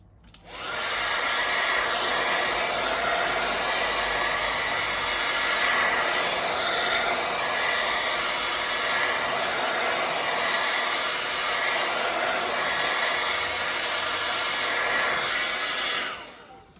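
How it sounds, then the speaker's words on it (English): A hair dryer blows continuously at a steady, loud roar for the whole stretch, starting and stopping abruptly with no voices. "I'm gonna get my blow dryer and we're gonna blow dry."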